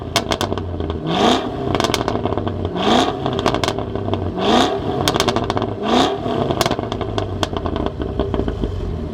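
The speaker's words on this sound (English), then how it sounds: "just appreciate the exhaust" A 2026 Cadillac CT5-V Blackwing with a manual gearbox revs its exhaust four times in a steady rhythm, each blip rising sharply then falling back to a burbling idle, close and fairly loud.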